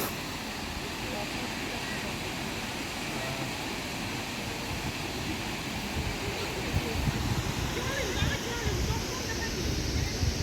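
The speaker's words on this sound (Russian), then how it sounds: "Вот водопад." The Khal-Khal waterfall near Oğuz, Azerbaijan, pours down a mountainside as a steady, broad rush of water, even and moderately loud throughout, with wind buffeting the microphone.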